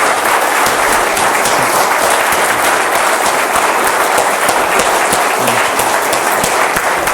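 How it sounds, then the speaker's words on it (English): A crowd at a meeting in Warsaw applauds loudly and steadily, a dense, unbroken wash of clapping close up that holds at full strength from start to finish. "That applause."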